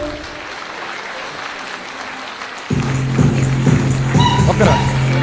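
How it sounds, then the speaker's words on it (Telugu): Audience clapping at a product training session, starting as a thin background patter that swells into louder, closer clapping midway, mixed with a persistent low hum and voices talking over it. "జోరుగా క్లాప్స్ అవ్వండి"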